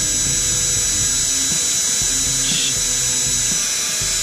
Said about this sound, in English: The hardest really is keeping the Dremel straight, because it's obviously rotating in one direction